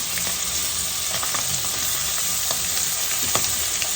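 Mushrooms fry in a hot pan for a quick Thai-style stir-fry with fermented soybean paste, a steady loud sizzle and hiss with occasional clicks of stirring, close and continuous, no voices.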